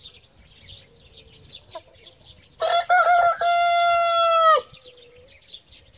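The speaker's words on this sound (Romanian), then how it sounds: "Eu zic să facă Cucurigu și el cocoșește." A Brahma rooster lets out a single loud, drawn-out crow lasting about two seconds, standing out clearly against quiet clucking of hens around it in a backyard coop.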